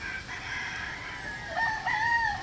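A breeder rooster crows nearby over a steady outdoor hiss, one drawn-out rising call in its second half, with no talk over it.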